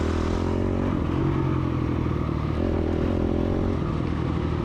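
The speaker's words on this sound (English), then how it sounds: "Bike's lugging in some sections, but it's powering through in the other sections." A dirt bike engine lugging in third gear during a woods race chugs loudly and close at low revs, a rough, labored thrum with clattering, never climbing into a high rev.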